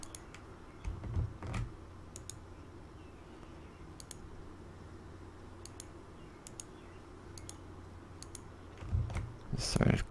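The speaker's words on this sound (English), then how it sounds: "I guess I'm clicking around here." Sharp mouse clicks tick out at scattered moments during Project Zomboid play, quick and close, with a voice and low handling noises rising briefly near the start and again at the end.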